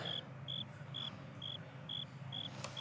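A cricket chirps in steady, evenly spaced bursts, about six clear trills at regular intervals against a quiet, low background hum.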